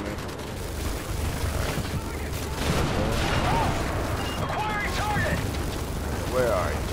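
Gunfire and explosive bursts from a parking garage firefight in Call of Duty: Modern Warfare 3, steady and dense throughout, with louder crashes in the middle and a person talking over it.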